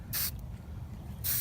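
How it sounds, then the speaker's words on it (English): Two short bursts of spray paint from an aerosol can while painting a car, a sharp hiss at the start and another at the end with quiet between. "grab your spray paint"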